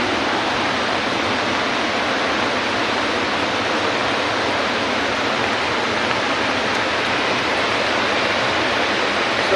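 Floodwater from the swollen Toorsa river rushes through a village, a loud, constant broadband roar of churning water with no pauses, close and overwhelming.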